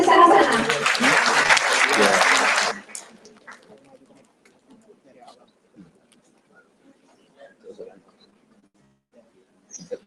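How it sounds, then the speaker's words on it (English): An audience at a conference gives steady, full applause for a speaker coming to the stage. It holds at an even level for about three seconds, then cuts off abruptly into a near-silent room with faint scattered noises. "Please give another applause to Mrs. Iysca."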